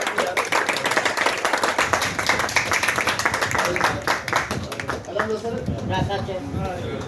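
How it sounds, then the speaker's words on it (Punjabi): A crowd at a PTI party gathering claps in a dense, continuous patter, mixed with voices and crowd noise throughout. "ਤਾਲੀਆਂ ਮਾਰ ਦਿਓ ਤਾਲੀਆਂ ਮਾਰ ਦਿਓ"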